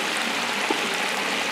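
Chopped onions and green pepper fry in a pot of lamb curry once the water has boiled off, giving a steady, even hiss and sizzle with one small pop partway through.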